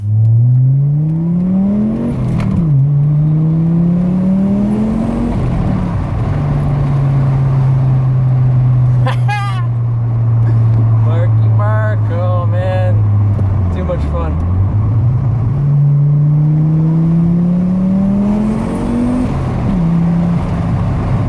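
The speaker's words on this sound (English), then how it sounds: "The engine, right? The 5-cylinder motor." An Audi C4 with a five-cylinder engine revs repeatedly, its loud, close drone climbing and falling in pitch across several throttle blips, with a person talking over it.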